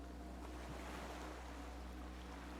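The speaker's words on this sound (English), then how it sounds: "The skiff is swaying on the waves" Waves lap steadily around a small skiff on open water in a video game, a constant washing surf with a low hum and faint wind, no voices.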